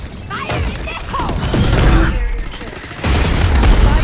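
Gunfire in the Valorant video game, dense crackling shots and booms filling the mix at high level, with players talking over the shooting.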